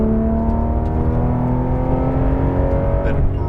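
A Porsche 911 GT3 runs at full power on a racetrack, its engine holding a loud, sustained high-revving drone from start to finish with a steady whine and no talk over it.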